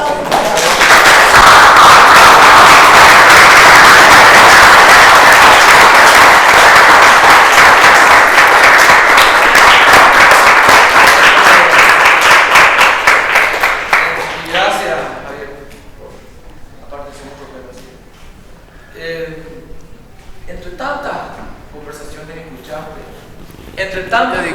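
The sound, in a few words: audience applause at a book presentation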